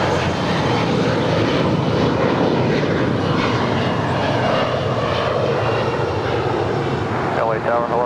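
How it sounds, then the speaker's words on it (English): An American Airlines Airbus A321neo jet arriving from Fort Lauderdale and landing at LAX, a loud continuous engine roar that holds steady, with a voice talking over it. "Coming in from Fort Lauderdale, Florida, this is American Airlines Flight 336 on this A321 Neo"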